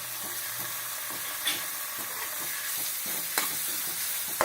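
Onions frying with a spoonful of ginger-garlic paste in a pan, a steady close sizzle with occasional scrapes and stirs of the spatula, no voices.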